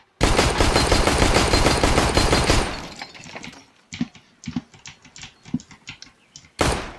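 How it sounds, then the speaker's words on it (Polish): Sustained rapid gunfire from a video game rattles loudly for a few seconds, then scattered single shots and short bursts follow, ending with another loud burst. "takie strzały tu powinny zabić mnie spokojnie chłopa, który sobie stoi na szpuli"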